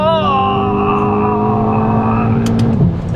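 Turbocharged Seat Leon Stage 2 accelerating hard under full throttle: a loud, sustained engine drone that holds its strength for several seconds, then ends in a brief clattering burst near the end.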